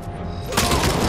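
A loud burst of AK-47 gunfire erupts in RoboCop: Rogue City, a sudden dense volley of shots after a brief lead-in of background game noise.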